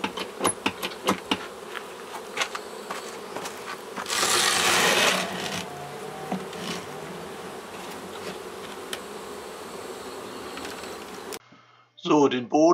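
Bees buzzing around a beehive floor board being scraped clean, with a swelling hum in the middle, scattered scraping and knocking, and a voice briefly at the end.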